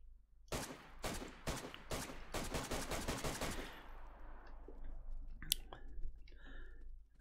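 Rapid gunfire in a video game rattles off in a fast burst of close, loud shots, then stops, followed by a few quieter clicks and handling sounds.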